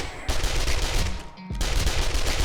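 SMG fire in 7 Days To Die during a blood moon horde night, a loud near stream of rapid automatic shots with one brief pause before firing resumes.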